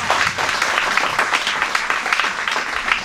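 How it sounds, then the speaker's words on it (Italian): Audience applause at a conference fills the room with a dense, steady wash of clapping that holds for about three seconds with no voices over it. "merita un applauso secondo me"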